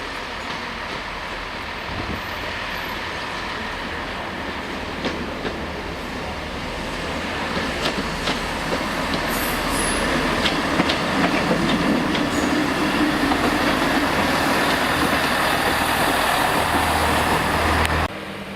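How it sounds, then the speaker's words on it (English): A two-car Class 158 diesel train pulls into Machynlleth station in Wales. Its steady rumble and rail clatter start moderately close and swell louder partway through, then hold near and continuous with no voices. "The train arriving in Machynlleth is a 2-car 158 for Aberystwyth."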